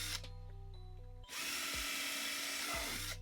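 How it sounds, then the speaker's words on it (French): A power drill drives screws into a wooden frame in loud, close whirring bursts. A short run is followed by a brief pause and then a longer sustained spin, with the motor pitch dropping as it slows. "Hop, je vais pouvoir visser"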